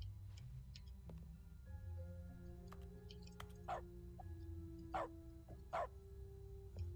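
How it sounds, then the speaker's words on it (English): Barks from the dog mode in The Stanley Parable video game, where every sound is swapped for barking, pop up as several short, sharp yaps over a steady, faint music-like tonal bed, spaced irregularly across the clip. "I turned on dog mode. Now everything barks."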